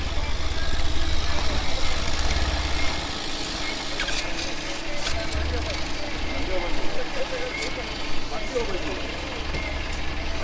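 A vehicle engine fitted with a modified silencer rumbles steadily and loudly at idle throughout, with a deep low-end drone and some rev fluctuation, mixed with background crowd noise and talking.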